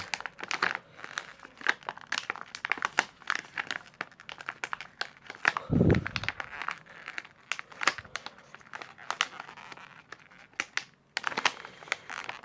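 Plastic film from a Ringke Fusion phone case crinkles and crackles continuously at close range, with dense irregular rustles and one louder crunch midway.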